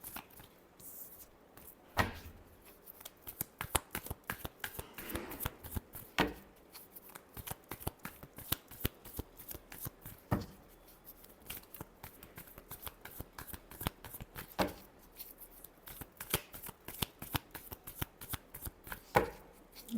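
Tarot cards being shuffled by hand, with dense runs of rapid riffling flicks and sharper snaps spread across twenty seconds, close and clear with no talking.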